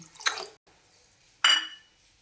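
Water poured from a bowl onto sugar in a pan to make syrup for rave unde, heard as two short splashing pours separated by a near-silent gap, close and fairly loud.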